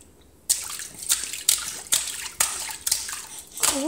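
A child slaps bathwater in a tub, making a steady run of about seven loud, close splashes spaced roughly half a second apart, with a brief voice at the very end.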